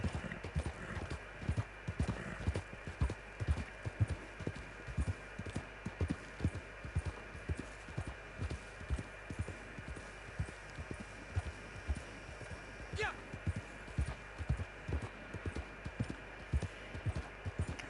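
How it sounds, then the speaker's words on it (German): Horse hooves trot in a video game, a steady even clip-clop beat running throughout at moderate, fairly faint level, with a brief whinny-like tone near the end. "welches Pferd zurzeit das schnellste Pferd im Spiel ist."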